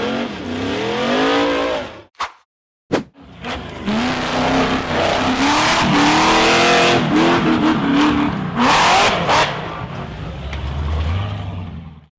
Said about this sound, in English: The black buggy charged hard up the dangerous red dirt slope